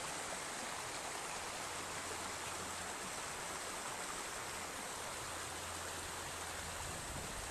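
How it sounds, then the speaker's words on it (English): Steady rushing babble of a small brook at Tumwater Campground, dense and continuous water noise filling the whole stretch, close by, with no voices. "Just amazing how much noise can come from a little babbling brook."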